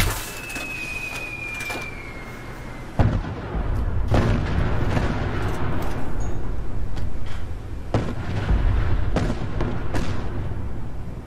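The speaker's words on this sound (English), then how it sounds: "It is a nuclear bomb launcher, a mini nuclear bomb launcher." Deep booming blasts from a Fatman-style mini nuclear bomb launcher in Kerbal Space Program, several heavy explosions landing at irregular intervals over a continuous low rumble.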